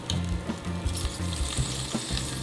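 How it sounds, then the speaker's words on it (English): Twelve-year-old Spam sizzles and spits inside a hot waffle iron, a steady close frying crackle with small bursts and pops throughout, no voices. "There's definitely a nice healthy sizzle going on."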